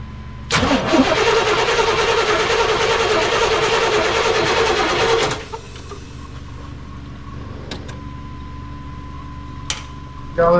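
A 1989 Chevy Suburban that sat parked for years, with a newly changed fuel filter, cranks and catches. A loud close roar of engine noise lasts about five seconds, then cuts to a quiet hum with a few faint clicks.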